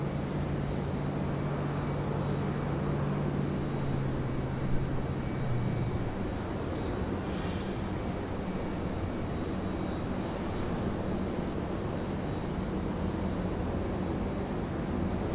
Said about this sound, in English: Little bumpy touchdown for the flight from Orlando.